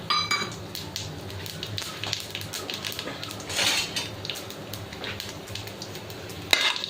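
Asafoetida and cumin seeds sizzling in hot oil in a pan while making a small brinjal recipe, a faint steady crackle with light utensil clinks and stirring nearby, one sharp clink near the end.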